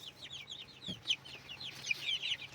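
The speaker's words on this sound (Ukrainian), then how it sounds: "Сьогодні четвертий день, як у мене ці курчатки." Four-day-old chicks cheeping in quick, high chirps that overlap continuously, fairly close, with a low background hum and no talking.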